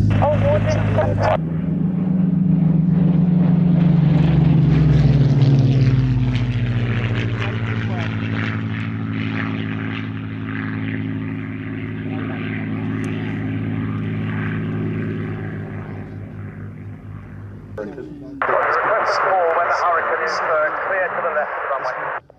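A propeller aircraft in maritime configuration drones steadily close by at an air show race day, its engine tone shifting slightly, with voices talking over it, ending in a louder burst of engine noise.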